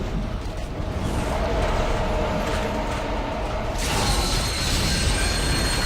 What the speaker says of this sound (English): Oh, the train to hell